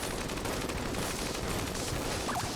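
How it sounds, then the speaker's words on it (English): The Glacier weapon fires a stream of explosions in Enter the Gungeon during a boss fight, a dense continuous rattle of rapid blasts and gunfire at steady loudness throughout. "Just firing a lot of explosions in, breaking his bullets."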